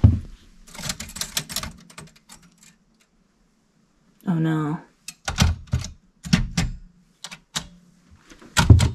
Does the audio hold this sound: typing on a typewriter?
yes